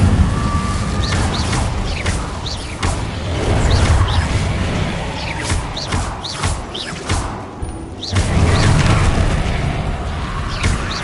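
Incendio fire spell in Hogwarts Legacy, cast repeatedly in combat: a string of whooshing bursts and booming impacts over a dense, noisy battle bed, with no voices.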